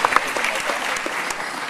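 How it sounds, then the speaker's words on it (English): Audience applause at a Relay for Life survivorship speech event at West Chester University, a brief burst of dense clapping from a crowd, steady and fairly close. "Give yourselves a round of applause."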